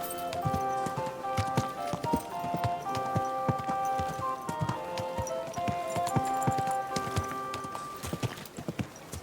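Steady clip-clopping of horse hooves at a walking pace, close and prominent, with a brief whinny and an ambient backdrop of game-world sound from Kingdom Come: Deliverance II.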